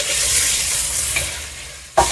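Onions for a pot of bean soup fry in a steady, close sizzle with a sharp clatter or stir at the very end.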